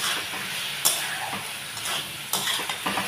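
A utensil stirs chilli powder through sizzling shrimp in a frying pan, with steady crackling fry and a few sharp scraping clicks of the spoon against the pan, close up and without talk.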